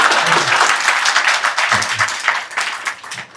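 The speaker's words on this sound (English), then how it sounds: "Only few have clapped because they will stay." A lecture audience at a Sunday feast gives a short round of applause, a dense burst of clapping from a small crowd that thins out and trails off toward the end.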